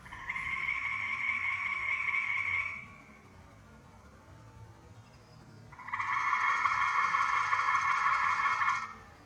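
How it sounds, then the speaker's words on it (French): Frogs croak outdoors in two long, loud, buzzing choruses separated by a short quiet pause, steady and pulsing throughout. "je viens d'activer les grenouilles dehors"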